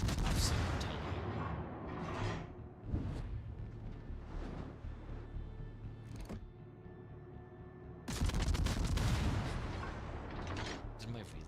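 Heavy naval artillery booms in the World of Warships game, loud bursts of gunfire repeating over a rumbling battle background, with a dense barrage near the end.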